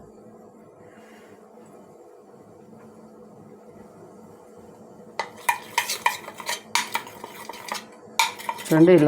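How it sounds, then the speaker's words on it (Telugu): Oil being brushed onto metal idli plates: a quiet hum at first, then a run of sharp metallic clinks and scrapes of spoon against plates, close, with a brief voice at the end. "ఇప్పుడు కొద్ది కొద్దిగా అంతా ఆయిల్ అప్లై చేసుకుందాము"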